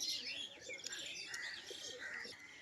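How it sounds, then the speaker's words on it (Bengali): Pigeons kept in a loft coo and chirp close by, soft overlapping calls repeating over a faint background hum. "তো বন্ধুরা আর এক সেট পায়রা দেখাচ্ছে ভাই"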